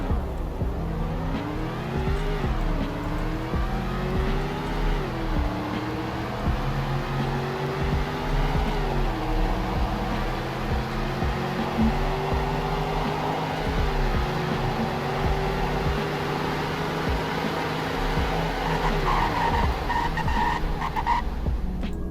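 A game car in Greenville revs and accelerates through a speed test, its engine tone rising in stepped pitch sweeps as gears shift, loud and steady for about twenty seconds with no talking.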